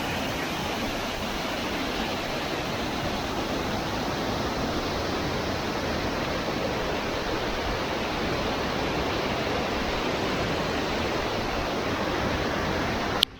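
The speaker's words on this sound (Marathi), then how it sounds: "आपण आता बघतोय तो आहे सावडावचा सुप्रसिद्ध धबधबा" Savdav waterfall in Kankavali, Sindhudurg, in the Konkan region, roars as a steady, dense rush of falling water, loud and unbroken throughout with no voices.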